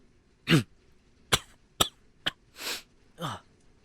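Six separate coughs in a row, sharp and close, with short pauses between them and the last two longer and raspier.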